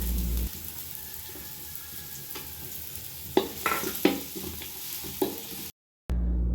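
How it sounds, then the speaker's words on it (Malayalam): Cashew nuts fry with softened onions in oil for chicken biryani, a soft steady sizzle broken by several close spatula scrapes and stirring clatters, before a brief cut to silence. "സവാള ഒന്ന് വഴന്ന് വരുന്ന സമയത്ത് നമ്മളിതിലേക്ക് കാഷ്യൂനട്ട് ചേർത്ത് കൊടുക്കുകയാണ്"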